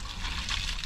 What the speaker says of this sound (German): ich gieße mein heißes Nudelwasser jetzt hier rein